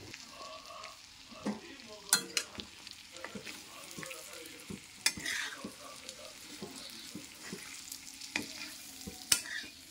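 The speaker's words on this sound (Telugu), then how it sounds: "ఈ మసాలా పౌడర్స్ అన్నీ కూడా వేసి ఒక 5 నుంచి 10 నిమిషాల పాటు లో ఫ్లేమ్లో మనం ఉడికించుకొని" Chicken fry cooking on low flame with masala powders, a steady soft sizzle with repeated stirring and scraping of the pan, close up and without speech.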